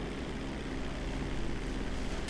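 Airplane engine in GTA V, a steady, dense droning roar that holds evenly from start to finish with no speech over it.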